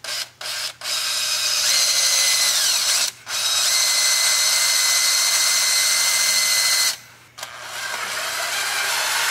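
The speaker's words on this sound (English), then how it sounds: "then we're going to get going to drilling." A power drill whines steadily in several bursts while drilling a hole through a Supra/Moomba boat for a ballast system install, with short pauses between runs and a pitch that shifts as the bit bites into the material.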